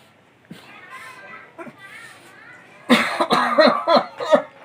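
A person coughs several times in quick bursts during the making of a short film, close by, mixed with a voice and other people talking.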